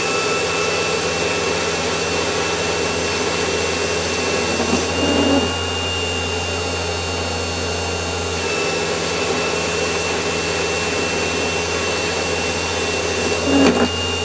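Warco WM180 lathe turning down a steel diameter, taking a millimetre cut at a time: a steady close machine whine and motor hum runs throughout, with faint brief cutting scrapes and no voices.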